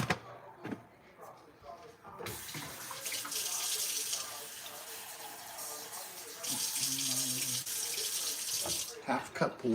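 Tap water runs into a sink while stroganoff is being made, a steady broad hiss in two long stretches broken by brief clunks and a short gap, close by and with no speech over it.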